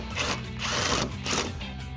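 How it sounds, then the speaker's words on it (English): Ratchet wrench with a 10mm socket on an extension loosening headlight bolts on a 2007-2013 Chevrolet Silverado 1500, giving rapid, close clicking pawl bursts in a few repeated strokes without any talking. "grab your extension and a 10mm socket and let's get this removed."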